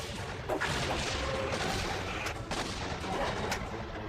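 Anti-grav guns fire in an animated Exosquad battle, a dense continuous barrage of bursts and sharp cracks at steady loudness, with several distinct louder shots standing out through the roar.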